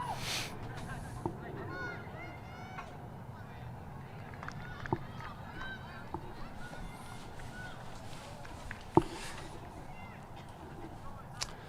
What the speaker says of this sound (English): Got a large crowd of Canadian geese at the north end of the field watching the game tonight. They're honking